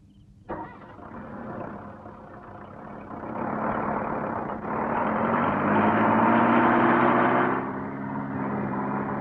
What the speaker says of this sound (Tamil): இன்ஜின் நிறுத்தியா?